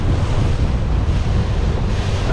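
Strong wind gusts over open tidal water from a small fishing boat at near low tide, a steady loud roar buffeting the microphone with surf-like wash throughout.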